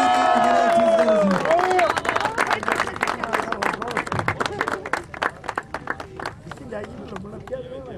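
A crowd claps and cheers for the S1 category winner at an off-road race final, sustained applause that thins out over several seconds, with an announcer's voice and crowd chatter mixed in.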